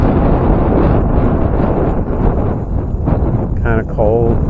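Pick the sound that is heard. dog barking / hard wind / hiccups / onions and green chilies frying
hard wind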